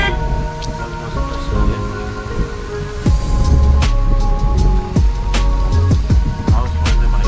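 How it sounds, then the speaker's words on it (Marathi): Light rain drizzles steadily near Tarkarli beach in Malvan, a soft continuous hiss broken by scattered sharper knocks and thuds, with a background hum running throughout. "पाऊस पडते बारीक बारीक."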